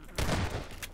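A shotgun blast in Half-Life 2 (2003 build), one broad burst near the start that rings out over about a second, followed by a fainter sharp report near the end.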